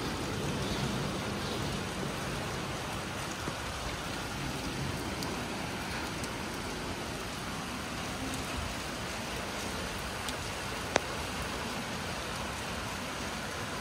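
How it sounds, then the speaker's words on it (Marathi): Heavy rain falls steadily outside as a dense, even hiss that stays constant throughout, with no voices. "खूप असा मुसळधार पाऊस पडतोय."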